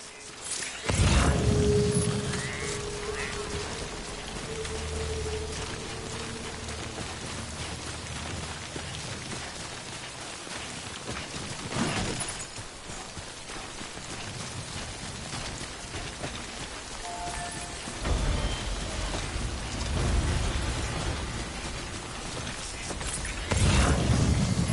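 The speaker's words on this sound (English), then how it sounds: "Good thing it was raining." Steady rain pours over an outdoor landscape in Death Stranding, a dense continuous hiss with brief louder bursts and a faint mechanical whine partway through.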